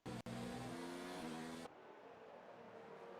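An F1 race car engine in a video game, loud and high-pitched, holding a strained tone at top speed above 180 mph before cutting abruptly to a quieter, rougher drone.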